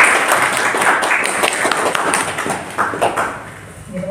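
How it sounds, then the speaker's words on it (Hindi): An audience claps at a talk on preparing for the AIIMS entrance exam, a dense, loud patter of many hands that thins out toward the end. "ताली बजाओ।"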